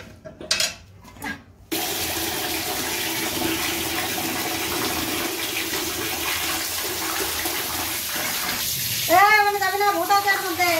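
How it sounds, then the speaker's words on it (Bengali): Water runs in a steady, close rushing stream while fish are washed, with a few knocks at the start and a voice speaking near the end. "মাছগুলো আমার ধোয়া হয়ে গেছে, তুলে নিলাম"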